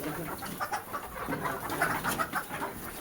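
Chickens on a Bangladeshi poultry farm with free-range local hens, clucking and squawking in a busy, continuous mix of overlapping calls at moderate distance.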